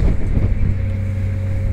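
Strong wind at a Brooklyn beach near Sea Gate rumbles loudly against the microphone in a steady low roar.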